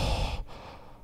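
A single loud, close mouth breath blows into a microphone as a heavy breathy exhale that fades within about a second.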